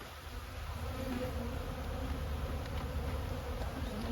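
A dense, steady hum of many honey bees swarms around a growing hive, close and continuous with no voices over it.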